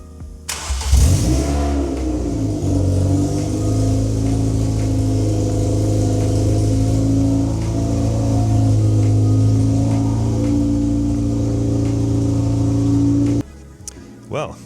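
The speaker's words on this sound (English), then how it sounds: "So with the Puma now up and running, we can start removing some of the bodywork." Ford Racing Puma engine cranking and catching after a fuel pump replacement, then idling steadily and loud up close with occasional light revs before cutting off, followed by a short moment of quiet.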